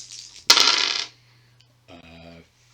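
Six dice for a Shadows of Brimstone board game clatter loudly onto a surface in one sharp burst, followed a moment later by a brief softer rattle as they settle.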